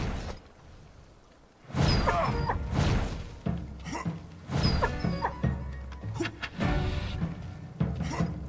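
A Dire Pyre creature in the video game Skyclimbers gives a string of loud, close, bark-like yelps and whines in several bursts, with whooshing game effects between them.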